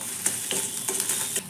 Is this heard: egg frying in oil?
yes